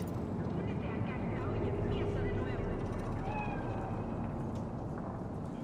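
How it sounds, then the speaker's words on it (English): A cat in the Cyberpunk 2077 video game on PS4 meows a few times at a middling distance, set against a steady, dense city ambience with a low hum. "The cat."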